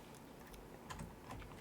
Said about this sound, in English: just muting my mic so you don't hear my keyboard